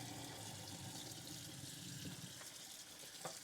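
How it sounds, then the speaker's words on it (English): Hot tap water runs steadily from a kitchen faucet into a bowl in the sink, a continuous close gushing splash with no talk over it. "I'm going to fill this bowl up with water"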